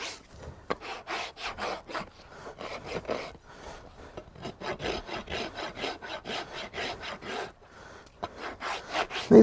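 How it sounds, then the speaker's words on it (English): A farrier's rasp files a horse hoof in steady, rhythmic rasping strokes, each a gritty scrape with short pauses between them, close and moderately loud. "Now, going around, I don't push too hard with my rasp."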